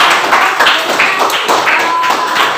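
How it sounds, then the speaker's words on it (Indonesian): A classroom of students claps for a classmate in a lesson, a quick run of close, rhythmic applause lasting a couple of seconds. "beri tepuk tangan untuk teman kalian"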